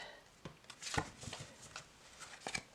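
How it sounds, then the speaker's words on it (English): Tarot cards riffle-shuffled in quick bursts of papery flutter, with several short snaps and taps, close and fairly quiet. "so this is much more bendy, so definitely could riffle shuffle it"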